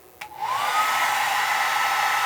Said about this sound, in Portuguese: vamos ligar o secador de cabelo e ver se vai segurar